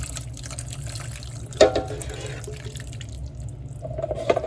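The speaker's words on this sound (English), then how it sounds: "I'm going to go ahead and pour this over the meat" Broth mixed with Lipton onion soup pours over a roast, a soft continuous liquid trickle and splash with a couple of sharper drips, fairly close.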